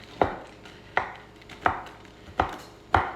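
A knife chops on a cutting board in five sharp, evenly spaced strokes about three-quarters of a second apart, close and clear with no talking, while cookie dough is being prepared.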